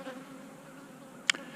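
Honey bees buzz around a nuc box during a queen-cell hive setup, a faint, steady insect drone that carries evenly throughout, broken by one brief sharp click near the end.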